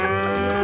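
A person's voice imitates a cow mooing with a short, loud, steady, droning low moo close to the microphone.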